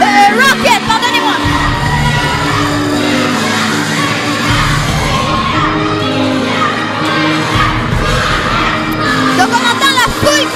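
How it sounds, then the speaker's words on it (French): A crowd cheers and shouts for William at a final match, loud sustained roaring with children's shrieks and whoops throughout, a voice occasionally heard within the din. "Donc on entend la foule qui est pour William."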